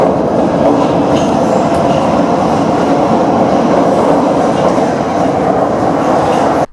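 A Budapest metro train runs underground with a loud, steady roar and rumble that fills the whole clip, wheels clattering beneath it, before the sound drops off sharply at the end.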